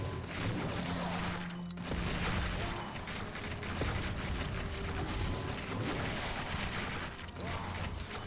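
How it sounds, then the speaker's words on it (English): Homing missiles in the video game R.I.P, a dense, continuous barrage of rapid explosive firing with booms and mechanical clatter, loud and unbroken throughout. "Homing missiles."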